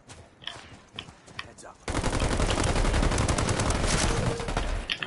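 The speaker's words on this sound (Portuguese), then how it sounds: "Tá vendo tiro de tudo quanto é lado" Video game gunfire: scattered distant shots at first, then a sudden sustained burst of dense, rapid automatic gunfire, loud and continuous until the end.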